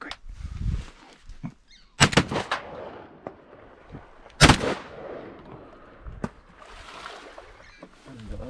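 Two loud, sharp gunshots ring out close by during a hunt, a few seconds apart, with quieter rustling and handling noise between them.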